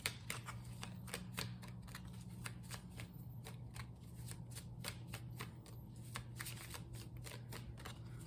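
Tarot cards are shuffled close by, a steady run of crisp riffling snaps repeating quickly over a faint low hum, with no talking.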